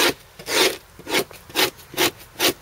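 A blade scrapes across an animal hide in about six rhythmic, rasping strokes, each a short burst of rough friction close up, with quiet pauses between them.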